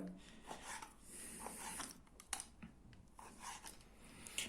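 A knife slicing meat into small sauté pieces, with quick repeated scraping cuts and rubbing sounds close up, fairly quiet, interrupted by brief pauses.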